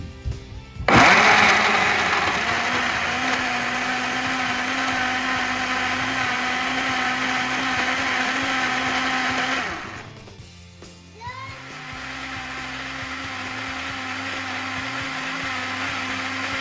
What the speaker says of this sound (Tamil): அதை விட்டுட்டு நல்லா பிளண்ட், இதுக்கு கொஞ்சம் ஐஸ் க்யூப்பும் போட்டுட்டு அடிக்க போகிறேன்.